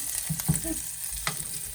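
Chilies frying in oil for pav bhaji give a steady close sizzle, with a few soft stirring knocks and spatters over a short moment and no one speaking.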